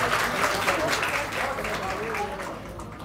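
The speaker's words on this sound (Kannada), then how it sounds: "ಅವರಿಗಾದ್ರೆ ಎಷ್ಟು ಜೋರಾದ ಚಪ್ಪಾಳೆ ತರ್ತೀರಿ." A crowd at an International Women's Day event hosted by Maruti Garments claps loudly to welcome the owner, Sampath, onto the stage, with voices faintly mixed into the applause as it slowly fades.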